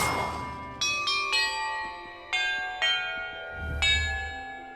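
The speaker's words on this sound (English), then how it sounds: "Perhaps the map contains clues about the order I'm supposed to ring the bells in." Bells rung one after another in the Hogwarts Legacy video game, about six clear metallic strikes at irregular intervals, each ringing out and fading, near and loud.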